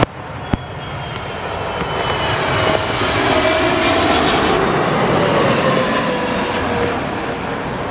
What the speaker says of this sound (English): Okay, it's a 777.